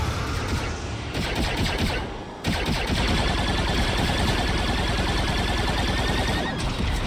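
Turret gunfire in a Star Wars game set on Tatooine, dense rapid bursts of shots blending into a loud continuous fusillade, with a brief lull before the firing resumes at full intensity.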